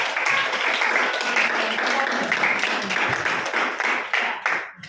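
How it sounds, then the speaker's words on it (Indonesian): Applause from a classroom of students for a classmate named Melvin, a dense sustained clapping that fills the room for several seconds before trailing off. "Beri aplaus ya untuk Melvin yang kita semua ya"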